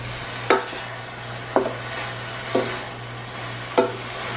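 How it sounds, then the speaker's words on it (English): Rice noodles and cubed tofu cooking in a covered pan, a soft steady sizzle under a low hum, broken by four sharp scraping clinks spaced about a second apart. "let it cook until the rice noodles and the tofu have absorbed some of the flavor"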